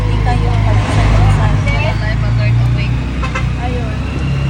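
A motorized tricycle engine drones steadily throughout a ride, a loud low rumble with road noise and a faint rattle, while people talk over it.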